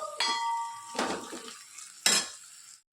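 Parboiled potatoes are scooped out of a metal kadhai with a spoon, making three distinct metallic clanks and scrapes separated by short pauses.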